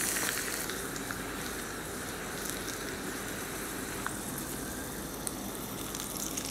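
Tempering of curry leaves, green chillies and asafoetida sizzling in hot oil for curd rice, a faint, even crackling hiss with occasional sharp pops.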